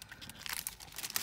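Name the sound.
wrapping paper crinkling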